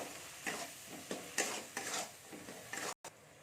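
A spoon scrapes and stirs masala seasoned with turmeric and salt in a pan, a series of soft rhythmic scrapes over a faint sizzle, quiet and close, with a brief dropout near the end.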